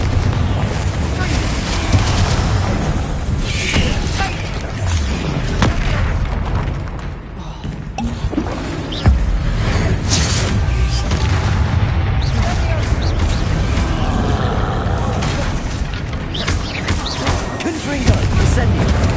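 Repeated Confringo spell blasts and other combat spell effects in Hogwarts Legacy, a dense, loud stream of booms and rumbles over a continuous roar of battle noise.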